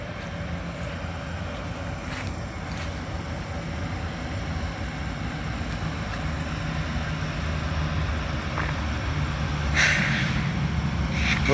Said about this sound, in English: we got a train rolling down the hill